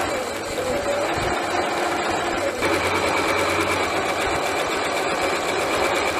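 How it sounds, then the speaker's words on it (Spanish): A sewing machine runs steadily while stitching Lycra stretch fabric under a presser foot, giving a close, continuous whirring hum with a brief pause partway through. "Colocamos la tela debajo del prensatela, bajamos el prensatela y vamos a oprimir el pedal."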